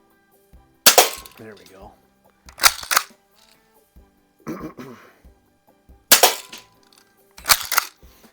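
A Daisy 340 BB gun fires at a can, giving five sharp, loud cracks spaced a second or two apart, each with a quick metallic ring. A voice speaks briefly between the shots.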